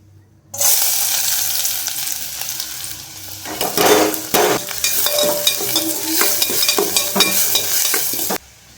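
Egg bhurji cooks in hot oil in a pan with dried chili, giving a loud continuous sizzle broken by repeated scraping and clattering strokes of a spatula stirring the mixture close by.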